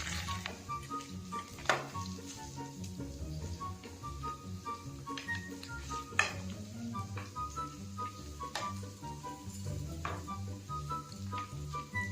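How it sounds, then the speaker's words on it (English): Quiet, steady sizzling of crinkle cut fries frying in hot oil, with a faint hum and occasional clinks in the background. "Okay, this is the sizzle."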